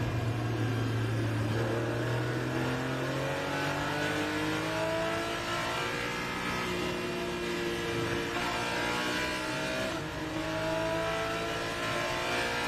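Race cars on the Road America circuit braking and accelerating, several engines rising and falling in pitch as they shift gears through the corners, heard at a moderate distance without talk.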